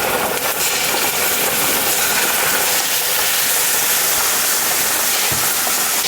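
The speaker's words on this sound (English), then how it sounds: "We're going to saute our shrimp first." Shrimp seasoned with salt sautéing in hot oil in a pan, a loud, steady broadband sizzle that hisses continuously throughout.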